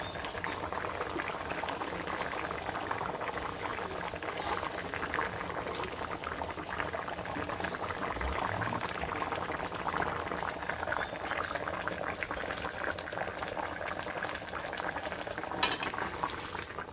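Fish curry with potatoes simmers in a pot just after the fish pieces go in, a steady close bubbling and soft sizzle that runs unbroken throughout with no voices.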